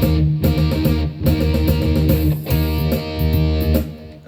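A distorted electric guitar plays a triplet rhythm over a loud backing track. Chugging power-chord figures repeat in short bursts with brief gaps between them, and no one speaks.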